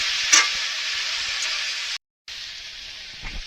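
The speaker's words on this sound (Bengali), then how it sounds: "এই যে সবজিগুলো তোমাদের মশলা দিয়ে দেখালাম কষাচ্ছি" Vegetables sautéing with spices in a pan for a vegetarian Bengali dish, a steady close sizzle and hiss with a short break and a brief clink of stirring.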